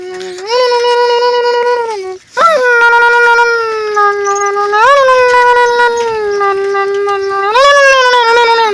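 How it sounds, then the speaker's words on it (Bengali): A dog howls loudly and up close in long, wavering cries, breaking off briefly before resuming with rising and falling pitch. "কুকুরটা আবার উপরের দিকে চলে আসছে"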